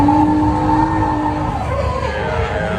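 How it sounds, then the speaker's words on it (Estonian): Cars drifting at an outdoor car event, tires squealing in a loud sustained screech over revving engines, close by. "siin kutid driftivad seal"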